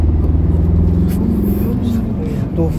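A Ford Ranger Raptor's 2-liter engine holding steady around 2,500 RPM, a continuous low droning rumble heard from inside the cab, loud and even, with quiet talk over it.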